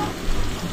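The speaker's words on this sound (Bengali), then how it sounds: "এখন আমি শাকগুলা ঢেলে দিচ্ছি" Water spinach poured into a hot pan with jackfruit seeds and dried fish gives a short burst of steady frying sizzle, close and alone.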